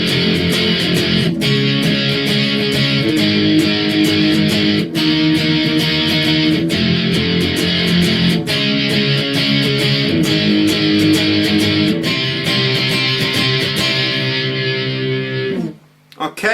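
Distorted electric guitar plays a chorus, loud strummed power chords in a steady driving rhythm, ending abruptly near the close.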